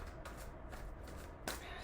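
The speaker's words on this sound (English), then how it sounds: "So I'm shuffling this deck for her" A deck of tarot cards being shuffled close up, a couple of quick papery riffles over roughly two seconds with a sharper snap at the end.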